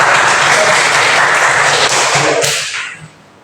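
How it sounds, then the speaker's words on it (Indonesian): A class of students gives a burst of dense, loud applause that runs for about two and a half seconds before tapering off and falling quiet. "Berikan tepuk tangan."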